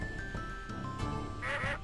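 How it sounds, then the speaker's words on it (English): Cartoonish duck quacks from the video game Skies of Arcadia sound over in-game music, with a brighter burst of quacking near the end. "A little ducky? Little duck birds?"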